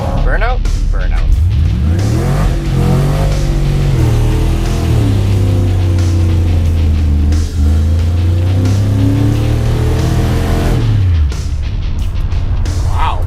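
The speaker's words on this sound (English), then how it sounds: "See what happens when we step on it a little bit besides tire spinning. Burnout? Burnout." A truck with a 5.3 LS V8 engine does a burnout, its engine revving hard and rising and falling in pitch as the tires spin and squeal, loud and close, with people talking over it.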